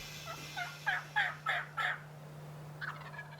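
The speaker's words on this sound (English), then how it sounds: "all of a sudden he gobbled" A wild turkey gobbles outdoors at a distance, giving a rapid rattling series of five or six gobble bursts and then a fainter trailing call, with a low steady hum underneath.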